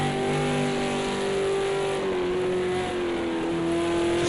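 A race car engine in an esports racing game holds a steady high whine with smooth pitch shifts as the throttle is pushed hard out of a corner, loud and continuous with no talking.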